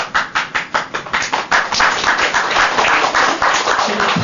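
A person claps during a prayer session, giving a quick run of about a dozen sharp, close claps that settle into softer, steadier clapping over a low room murmur.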